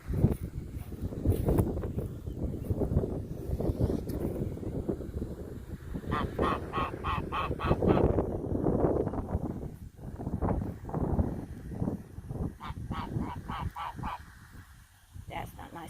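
A flock of waterfowl at a park honks loudly and repeatedly nearby, harsh overlapping goose-like calls in bursts, with a person's voice mixed in.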